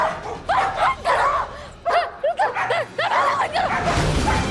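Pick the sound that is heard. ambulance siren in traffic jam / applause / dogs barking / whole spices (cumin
dogs barking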